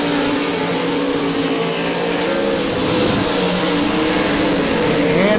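Race cars, including the No. 17 and the 10G, roar past on the Devils Bowl Speedway oval. Engines rev loud and close in a dense, continuous wash.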